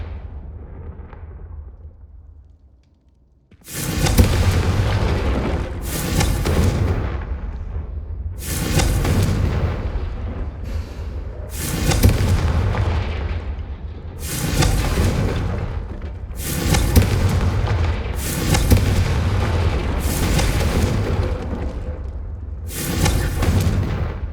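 Confringo blasting spells exploding over and over in Hogwarts Legacy, with a run of about nine heavy booming blasts at irregular intervals, each decaying into rumble, loud and close with no speech.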